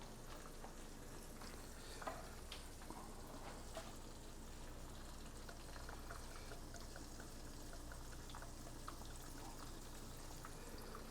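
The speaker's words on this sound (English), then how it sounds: "So while that's frying" Food fries in a pan for a breakfast sandwich, giving a faint, steady crackling sizzle throughout with a few small pops, no talking over it.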